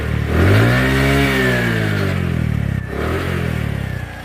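Close-up revving of a Bajaj Platina 100cc kick-start motorcycle: the engine swells sharply, holds a loud drone, dips briefly and revs again, heard alone without speech.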